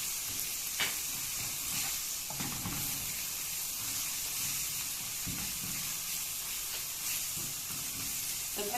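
Fava beans with paprika, coriander and cumin being stirred in a pan, a steady soft sizzle and hiss with occasional scraping knocks, quiet and continuous.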